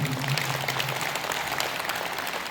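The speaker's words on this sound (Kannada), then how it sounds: "ನಿಮ್ಗೆ ಖುಷಿ ಆಗಿದ್ರೆ ಚಪ್ಪಾಳೆ ತಟ್ಟಿ" Audience at a ceremony in Kudalasangama breaks into applause, a dense, steady wash of many hands clapping that carries on without letup.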